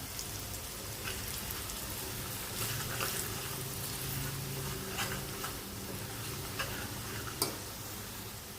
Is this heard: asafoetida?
yes